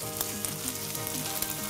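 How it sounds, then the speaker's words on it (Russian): Chicken fillet patties sizzle in hot oil in a pan with a steady close-up crackle and occasional small pops, with no voices. "Куриное филе жарится довольно быстро"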